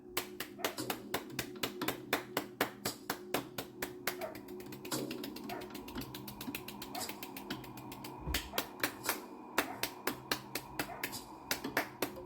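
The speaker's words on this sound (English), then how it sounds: "Give yourself a round of applause" Sharp hand claps ring out one after another at an uneven, rhythmic pace, loud and close, with a short hush midway before the clapping picks up again; no talking.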